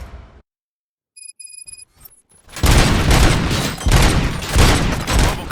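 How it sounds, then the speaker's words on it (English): Gunfire in RoboCop: Rogue City opens after a few electronic beeps and short bursts, then erupts into a loud, sustained fusillade of rapid shots and booms filling the rest of the moment. "Gunshots? What's going on?"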